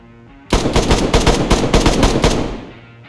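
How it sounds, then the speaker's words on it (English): Rapid automatic gunfire in the video game DayZ, shooting through base walls, a loud sustained burst of about two seconds after a quiet start, then fading, with no talking. "It looks like they've decided to continue shooting through my walls"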